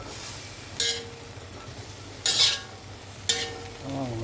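Vegetables for a chop suey with chicken liver sizzle steadily in a pan while a utensil scrapes through them in three distinct, loud stirring strokes spaced about a second apart.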